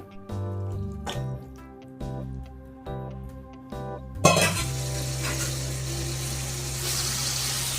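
Washed chicken drops into hot oil in a biryani pan and bursts into a loud, steady, close sizzle that runs without a break under soft background music.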